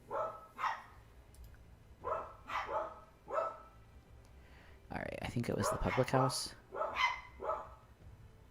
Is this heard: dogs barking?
yes